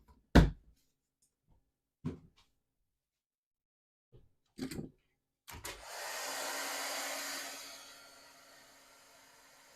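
A heat gun embossing a stamped image blows a steady, loud fan roar for a few seconds, preceded by scattered knocks and handling clicks on the crafting table.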